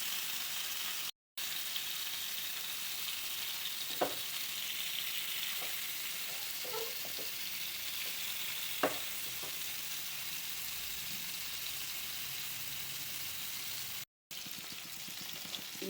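Fish fries in a pan for a chilli fish dish, giving a steady, soft sizzle throughout, with a few faint clicks and stirring sounds and no talking.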